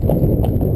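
A sturdy horse's hooves clip-clop on hard ground, close and loud, in a quick steady rhythm of several footfalls with no voices.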